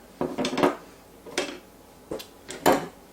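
An avocado pitting tool works on a split avocado, giving several sharp clicking and scraping knocks in irregular bursts, close and moderately loud, with quiet gaps between.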